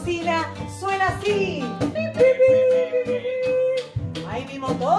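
A voice imitates a toy car's horn in playful honking bursts, sung with musical accompaniment at a children's reading festival performance.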